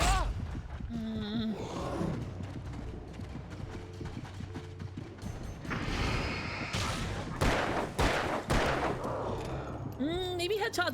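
Gunshots ring out in the Alan Wake video game, sharp bursts scattered through a busy, dense mix of game sound, with a voice heard at moments.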